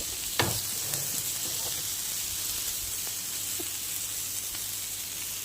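Anjal fish fries in a pan, a steady, moderately faint sizzle and hiss throughout, with a few soft clinks and knocks near the start.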